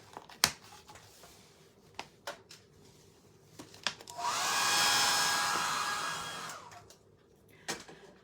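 A hair dryer blows on a painted wooden birdhouse project for a few seconds, a steady close whoosh between scattered small taps and clicks.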